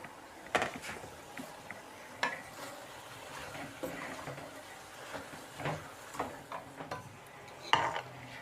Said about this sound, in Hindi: अब हम इसके अंदर गोभी डालेंगे,